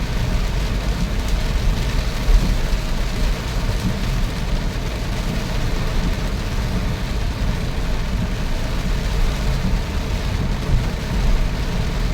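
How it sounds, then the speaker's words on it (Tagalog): Dense, constant wash of heavy rain pouring down, a steady hiss and patter with a low rumble underneath and no voices. "bumuhos pa lalo yung malakas na ulan"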